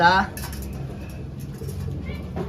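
Racing pigeons coo softly nearby in a few low, rolling calls, with a person talking over them.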